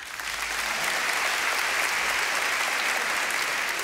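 An audience at a stand-up comedy festival gala bursts into loud, dense applause that swells quickly and holds steady, a full room clapping together with no talking over it.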